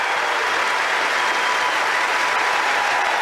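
Warm, sustained applause from the Wimbledon crowd after the 2023 ladies' final, a dense and even wall of clapping that fills the whole stretch at high level without pause.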